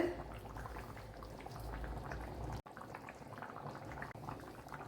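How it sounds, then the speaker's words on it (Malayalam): Dried fish curry bubbling in a pot on the stove, a quiet, continuous simmering burble with small pops, close by and low in level, with one brief clunk partway through. "തിളച്ചതിന് ശേഷം ലോ ഫ്ലെയിമിൽ അടച്ചു കൊടുക്കുക"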